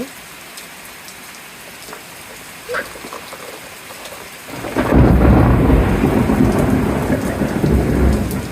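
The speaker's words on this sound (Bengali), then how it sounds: "এই যে বৃষ্টির মধ্যে রিপোর্ট করতেছি" Rain with thunder outdoors in a garden: a quiet background patter builds into a loud, close downpour about halfway through, with a rumble of thunder as the heavy rain begins and continues.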